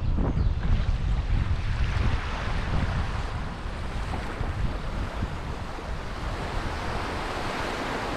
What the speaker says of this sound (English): And the little waves that make me run away.